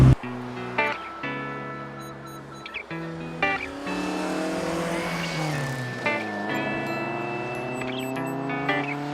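A 1960 Alfa Romeo Giulietta Spider in the Forza racing game revs hard through several gear changes. The engine note climbs and drops again and again, with faint tyre squeal through turns and no talk over it.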